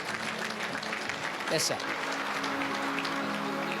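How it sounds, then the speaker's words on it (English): Audience applause at a charity fundraiser gala, a steady wash of clapping from a room full of seated guests that continues throughout, with a brief spoken reply rising over it midway. "Give this lady a massive round of applause, ladies and gentlemen."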